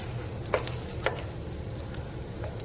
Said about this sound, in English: I'm gonna stir them up a little bit now.